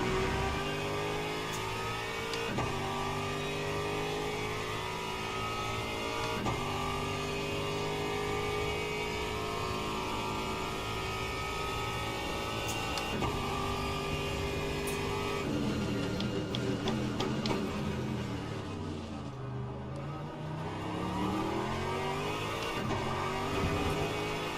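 GT3 race car engines roar continuously in Le Mans Ultimate at Bahrain Outer circuit, a Mustang and Porsche close by, with steady revving, gear shifts and a deep drop in pitch near the end as the car brakes for a corner.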